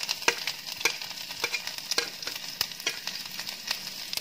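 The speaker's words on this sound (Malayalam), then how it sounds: "നമുക്ക് വെളുത്തുള്ളി ഇട്ട്" Garlic fries and is stirred in hot oil with mustard seeds and fenugreek for a Kerala-style beetroot pachadi, a steady close sizzle broken by rhythmic scraping strokes of the spoon, without talk.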